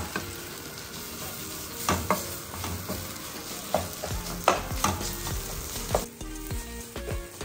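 Tomato frying with spice masala in a pan for biryani, a steady sizzle broken by repeated stirring scrapes and clanks, close and alone with no talk.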